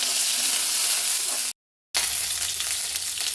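Chillies and chana dal frying in a pan give a steady, close, crackling sizzle, briefly cut off by a moment of silence before the sizzle resumes.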